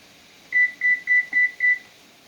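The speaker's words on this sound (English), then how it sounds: "Why don't we set that timer for 5 minutes?" Five short, evenly spaced electronic beeps from a kitchen timer being set, clear and steady over a quiet room during cabbage roll cooking.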